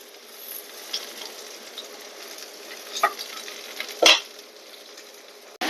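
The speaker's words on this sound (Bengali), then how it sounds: "এই যে টমেটোটা ভেজে নিলাম," Tomato frying in a pan for a rui fish curry: a steady soft sizzle with light stirring scrapes and one sharper utensil clink near the end.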